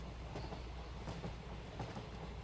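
A train rolling along its rails, a steady broadband rumble with low-end weight and faint clacking, continuous and close, heard from inside the carriage with no talking.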